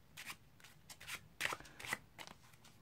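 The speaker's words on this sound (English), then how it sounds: "Now you just do an overhand shuffle, moving the top card to the bottom." Crisp bursts of playing cards being shuffled overhand, several quick riffling pulses in a row, close and fairly quiet.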